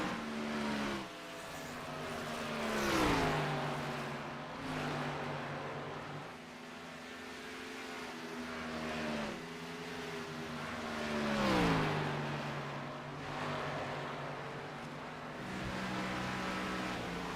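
A Gen 4 stock race car is driven hard at Indianapolis, its engine wailing loudly and rising in pitch through the gears, then dropping back as it lifts, in repeated surges, with no voices.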